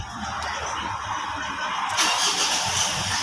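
A 2023 Mitsubishi Montero with a manual gearbox cranks and starts, the engine catching about two seconds in and settling into a steady close idle, no talking.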